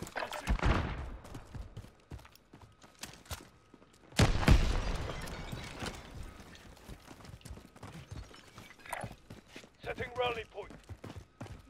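Grenade blasts and gunfire in Call of Duty Warzone, with two heavy booming bursts several seconds apart among scattered shots and thuds, fairly loud and close.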